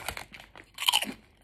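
Tyrrell's sweet chilli and red pepper lentil crisps crunched and chewed up close, a few crisp bites followed by a louder burst of crunching, with no talk.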